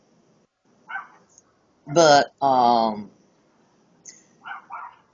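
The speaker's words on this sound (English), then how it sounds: "Now my dogs will go crazy." Dogs bark outdoors at night, with a couple of short yelps, then two loud, drawn-out, close barks, followed by a few quick yips. A voice is briefly heard.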